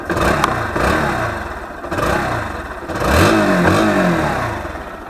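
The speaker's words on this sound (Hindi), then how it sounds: "एक बार आपको एग्जॉस्ट नोट सुना देता हूँ" A Bajaj Pulsar NS 160 motorcycle is revved several times up close, its exhaust rising and falling in loud throaty bursts with a clattering edge.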